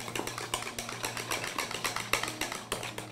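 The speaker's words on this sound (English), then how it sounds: "And whisk that up." A whisk beats a small batch of soy sauce, black pepper and salt for a tofu gravy, a fast, steady clatter of metal against a bowl up close with a low hum underneath.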